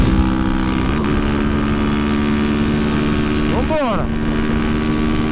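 Honda Twister 300 motorcycle engine held at high revs near top speed, a loud continuous droning roar with wind rush, and a brief voice cutting in near the end.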